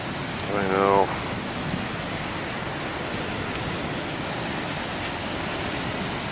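Big ocean waves roll in as a steady broadband surf wash throughout, with a brief voice near the start and an otherwise unbroken, moderately loud roar.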